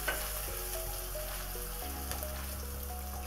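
Garlic and green chilli sauté in a hot pan for cauliflower fried rice, giving a steady, close, continuous oily sizzle with no talking.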